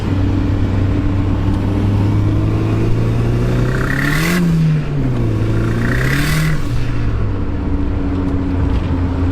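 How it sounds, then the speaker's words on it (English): A turbocharged Datsun wagon engine with a GT3582 turbo rumbles steadily, then revs up twice in quick succession under boost before settling back to a loud, close idle. "We'll give it a little bit of boost here and see what it does."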